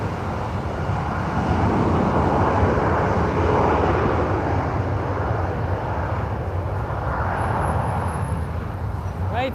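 DHL cargo jet at Lisbon Airport, a broad, steady engine roar that swells and eases over several seconds, heard from a distance outdoors with faint voices underneath.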